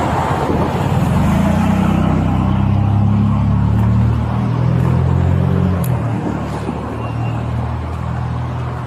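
Steady road traffic on 3rd Street, a continuous low rumble of passing cars and heavier vehicles, close and fairly loud, with no talk over it.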